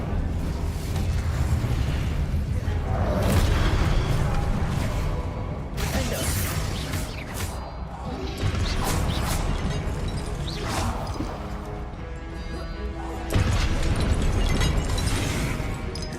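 Spell combat in Hogwarts Legacy, with a blast of the Incendio fire spell among Confringo and Expelliarmus casts, giving repeated loud bursts, crashes and booms over a rumbling game backdrop, no talk.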